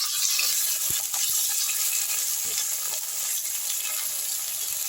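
Small chopped pieces of papaya fry in hot oil over a raised gas flame, a continuous close sizzle with faint stirring knocks scattered through it and no voices.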